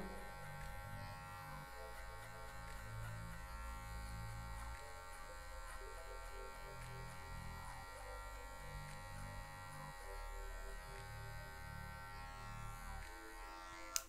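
An electric hair clipper buzzing steadily during a fade haircut, a continuous close electric drone holding at even level throughout with slight shifts in pitch as it moves through the hair.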